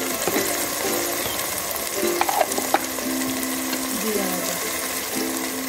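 Ginger paste frying with duck on a village clay stove: a steady sizzle with occasional stirring scrapes and a few sharper clinks, while a voice speaks faintly and intermittently beneath.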